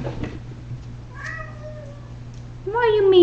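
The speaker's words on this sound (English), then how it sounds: "Why are you meowing?" A domestic cat meows in a kitchen, two drawn-out calls, the second louder and rising, over a low steady household hum.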